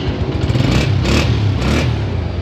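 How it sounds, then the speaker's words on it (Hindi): A 2020 Honda 125 self-start motorcycle fires up at the push of its starter button, settling into a steady, loud, close engine rumble with light clatter throughout. "ये इसका सेल्फ स्टार्ट का बटन, इसको लाइट सा पुश करें तो बाइक स्टार्ट हो जाती है।"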